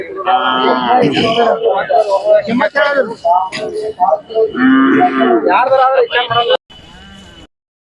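Khillar cattle moo loudly nearby at a livestock fair in long, drawn-out calls, one after another, with a brief softer call at the end.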